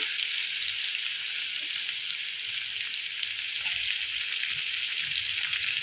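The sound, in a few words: curry leaves sizzling in hot oil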